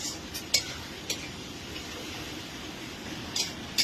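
A metal utensil scraping and clinking against a pan while stirring chicken kosha, a few sharp taps over a steady low sizzle, close and fairly quiet.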